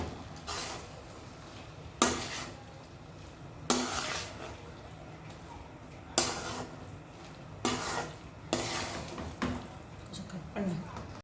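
Egg and torn chapati pieces are stirred in a pan, a spatula scraping and tapping the metal in about seven separate strokes over a faint sizzle, with a voice speaking quietly in between.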